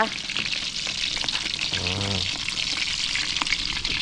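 Fried rice with mackerel sizzles loudly and continuously in a pan as fish sauce is added, with a brief low voice sounding under the frying.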